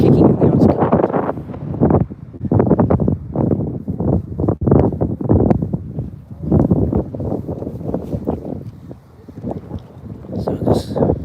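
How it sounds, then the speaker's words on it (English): Strong, cold wind on a rocky coast, heard as loud, gusting roars and buffets striking the microphone in uneven surges, with brief lulls between gusts. "the wind's just kicking and now it's cold"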